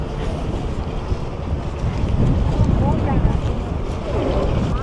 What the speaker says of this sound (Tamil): நைனாதீவிலிருந்து நிறைய படகுகள் இப்போ குறைக்கட்டுவான் நோக்கி போய் கொண்டிருக்கு.